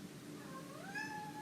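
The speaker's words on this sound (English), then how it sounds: "And my cat has decided to come and join us." A cat meows with a long, rising, drawn-out call that swells toward the end, close and fairly clear over faint background noise.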